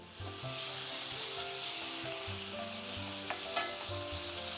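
Onion paste frying and being stirred in a pan for a prawn malai curry, a steady close sizzle with scraping stir strokes throughout, no talking.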